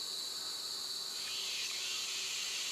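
Insects in the tall trees of a Sri Lankan forest make a steady high-pitched buzzing drone that is faint and continuous, with no voices.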